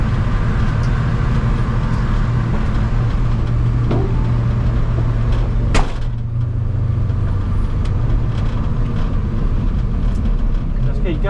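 A 200bhp BMW 325Ti drift car engine drones loudly and steadily from inside the car at a drift event, with a brief surge and dip partway through before the steady roar resumes.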